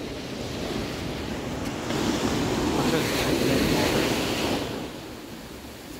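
Ocean waves at Laguna Beach make a continuous surf wash, swelling and easing over several seconds, with wind buffeting the microphone.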